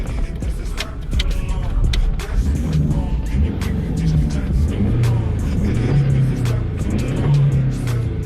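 A VAZ 2110 engine revs through repeated throttle blips, its loud, smooth rise and fall of revs droning close by without a break.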